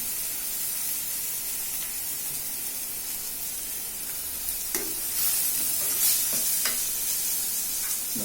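A ground chilli, coconut and fennel paste sautés in a pan with a steady, close hiss and sizzle, and a few louder spatters and stirring scrapes come near the end.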